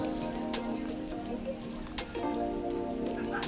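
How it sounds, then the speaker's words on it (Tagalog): Steady rain falling outdoors around a rural hut, a continuous soft patter with a few sharper drips on a surface; faint voices murmur underneath. "Nag-uulan pa po ngayon dito."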